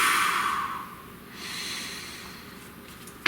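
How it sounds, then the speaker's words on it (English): A long, slow, deep breath taken close to the microphone, a drawn-in inhale that fades and then a softer exhale, ending in a short sharp sniff. "Please breathe."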